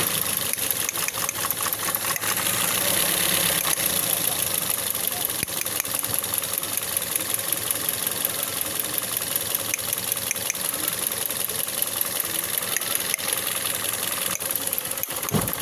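A 2016 third-generation Toyota Vios idles with a misfire, a continuous uneven chugging with irregular ticks and stumbles, recorded close and loud under a voice talking.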